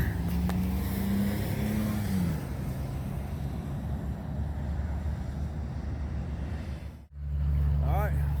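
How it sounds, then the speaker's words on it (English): A car pulls away after dropping off a hiker at Highway 331 on the Florida National Scenic Trail, its engine hum steady and fairly close before a brief dip and a louder return near the end. "There goes my ride."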